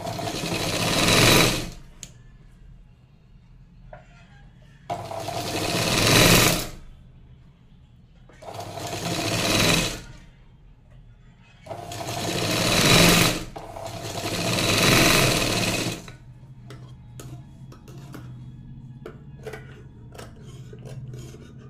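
Domestic sewing machine stitching the folded neckline of a padded one-tuck blouse: five distinct bursts of fast, steady whirring, each a second or two long, separated by quiet pauses with faint handling clicks near the end.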